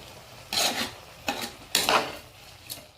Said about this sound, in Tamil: உப்பையும் போட்டு இது ஒரு கிளறிட்டு